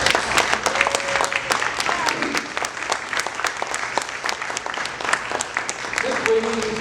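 A gala audience at a school academy trust's ten-year celebration applauds a teacher, dense sustained clapping filling the room with a few faint voices and cheers underneath.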